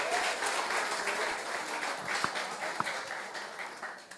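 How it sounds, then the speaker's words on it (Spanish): A church congregation breaks into applause, a dense, moderately distant patter of many clapping hands that swells and tapers over a few seconds, with a couple of sharper claps standing out. "Denle un fuerte aplauso al Señor."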